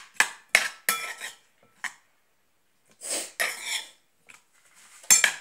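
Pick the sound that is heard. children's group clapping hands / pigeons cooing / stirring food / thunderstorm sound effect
stirring food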